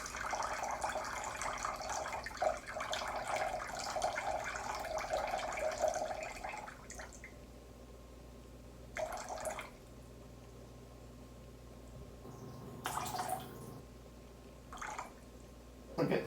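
Warm water, heated in a kettle, pours into a container on a kitchen scale for a sourdough levain, a soft continuous trickle for several seconds, then quieter short splashes and drips.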